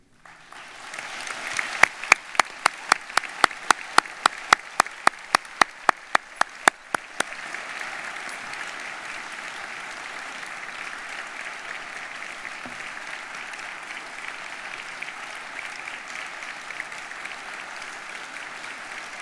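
An audience at a university spring convocation degree ceremony bursts into applause, first with a few sharp separate claps, then a dense, steady sustained clapping from a large crowd that carries on evenly.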